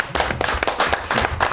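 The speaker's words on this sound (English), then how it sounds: "a round of applause" Brief burst of applause at a village board meeting, several people clapping steadily and fairly close, with no talking.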